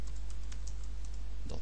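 Quick typing on a computer keyboard while setting up a basic Minecraft server on Ubuntu, a soft steady patter of key clicks close to the microphone over a low hum.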